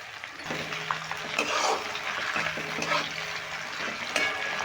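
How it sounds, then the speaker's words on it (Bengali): Chopped onion and tomato fry together in a pan with a half spoon of sugar, as the base for a green jackfruit curry. A steady, moderately quiet sizzle hisses under faint background tones, with occasional soft stirring scrapes. "পেঁয়াজ আর টমেটোটা ভেজে নিলাম এক মিনিট"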